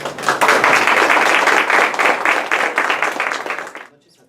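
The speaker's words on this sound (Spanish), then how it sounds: "Démosle por favor un caluroso aplauso al ingeniero José Antonio Terry" Audience applause at an engineering talk at a university, a dense wash of many hands clapping loudly and steadily for about four seconds, then cutting off abruptly into silence.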